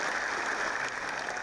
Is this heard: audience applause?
yes